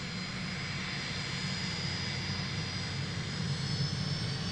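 Private jet on the runway at Boeing Field during a takeoff run, a steady, loud broadband jet engine roar with a low rumble, sustained and even throughout with no speech.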